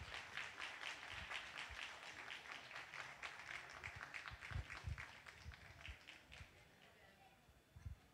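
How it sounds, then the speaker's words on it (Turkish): Spectators in a racecourse grandstand applaud as horses pass during an apprentice jockey training school graduation race: a steady wash of clapping from a sizeable crowd, moderately close, with occasional low thuds underneath. "Alkışlarımızı isterseniz bir kez daha destek verelim."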